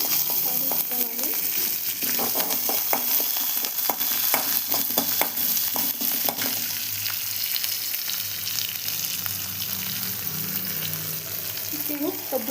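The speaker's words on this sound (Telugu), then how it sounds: "తాళింపుకి పోపు వేసుకున్నాను. తర్వాత కరివేపాకు, అల్లం, పచ్చిమిరపకాయలు" Curry leaves, ginger and green chillies fry in hot oil for a tempering, giving a steady close crackling sizzle with occasional sharper spits and stirring scrapes throughout.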